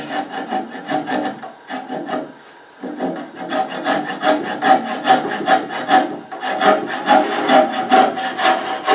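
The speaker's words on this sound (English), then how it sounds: "cut the rest of the dowel off to length." A hand saw cuts off the end of an oak dowel being trimmed to length on a carved oak chest, close and rhythmic back-and-forth rasping strokes with a brief pause in the middle.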